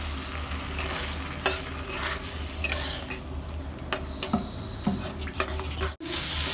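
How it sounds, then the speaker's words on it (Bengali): Egg gravy is stirred and sautéed in a pan, with a utensil scraping and tapping against the metal over a soft, steady sizzle, close and fairly quiet, with no talking. "বাটি ধোয়া জল দিয়ে একটু আমি কষিয়ে নিচ্ছি ভালো করে"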